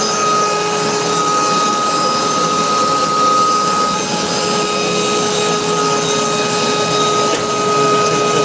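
A forge roars steadily while a farrier's rasp axe soaks in it for welding heats, a loud, even blower-like rush with a constant whine, unbroken from start to finish.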